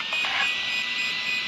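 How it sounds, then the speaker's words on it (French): An RC car speed controller emits a steady, continuous high-pitched beep, a thin electronic tone that holds without break at moderate level with no talk over it. "on entend, ça bip en continu"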